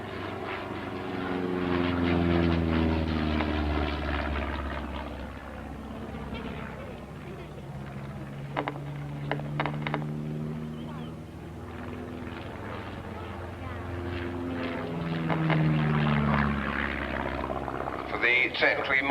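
A Slingsby T-67M Firefly propeller plane flying an aerobatic display at a 1986 Cranfield air show, its engine droning and shifting pitch as it climbs and dives at a distance, under an announcer's commentary.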